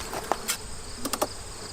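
Honey bees hum steadily around an open hive with a queen and larvae, a soft continuous drone broken by a few brief closer buzzes and light taps, with no talking.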